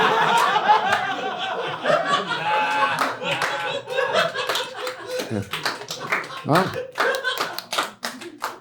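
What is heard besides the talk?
audience applause at a live comedy show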